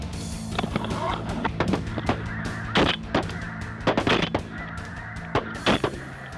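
Flocks of snow geese pass overhead during a hunt in Arkansas, their honking calls coming in repeated bursts at moderate distance over an outdoor background.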